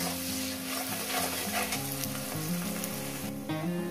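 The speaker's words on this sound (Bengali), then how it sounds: "এবার এটাকে দিয়ে মিনিমাম পেঁয়াজটাকে আমি 2 মিনিট ভেজে নিব। গ্যাস কিন্তু মিডিয়ামে রাখবে" Onions frying in a pan over medium gas for a Bengali fish curry, a steady dense sizzle with faint stirring scrapes, running continuously without speech.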